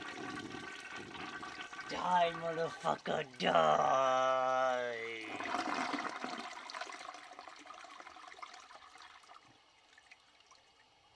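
A toilet flushes loudly, with a rushing surge of water that tapers into a long trickling refill, while someone shouts over the start of it.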